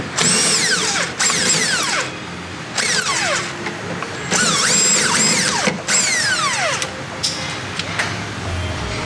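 On a car sway bar, a power tool whirs and ratchets through a 15 mm bolt in several loud, close bursts with rising and falling pitch, separated by brief pauses.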